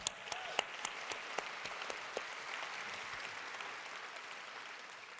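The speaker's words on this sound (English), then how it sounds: "I think we have to give them one more round of applause" The crowd at a mainstage opening session of a conference gives a round of applause, steady clapping with a few sharp nearby claps standing out, fairly quiet and tapering slightly toward the end.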